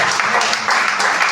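A church congregation applauds in praise during a sermon, a brief dense burst of clapping that fills the room evenly.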